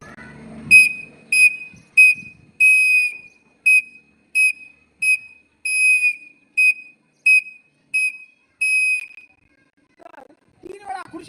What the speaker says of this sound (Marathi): तीन आखूड शिट्टी म्हणजे तीन शॉर्ट आणि एक लॉंग असते